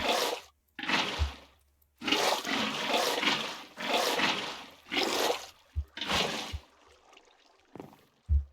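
Water is scooped up in Minecraft, the video game, in a series of splashy, bubbling liquid bursts separated by short gaps, fairly loud and close, with a few clicks near the end and no talking.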